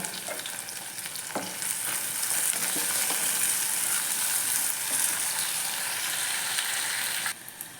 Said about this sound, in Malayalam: അപ്പോൾ ഇതെല്ലാം നമ്മൾക്ക് ഇട്ടിട്ട് ഒന്ന് വഴറ്റിയെടുക്കാം